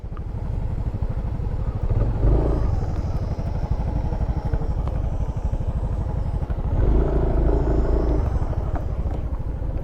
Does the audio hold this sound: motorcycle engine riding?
yes